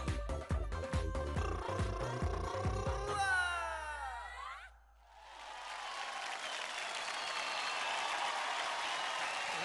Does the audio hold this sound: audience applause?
yes